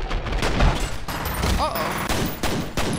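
Dual pistols fire in rapid bursts in the shooter game F.E.A.R., loud, dense cracks of gunfire layered with game noise and a voice talking over it.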